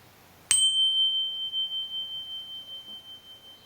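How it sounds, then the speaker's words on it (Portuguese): A small bell marking a meditation silence is struck once, sharp and clear, its ringing tone lingering and slowly fading in a quiet room. "Eu vou tocar um sininho agora, aquele do silêncio."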